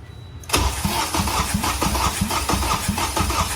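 A Honda Civic EG's K24 engine cranks over with a rapid, rhythmic chugging starter sound that begins abruptly and continues without catching, with no spark.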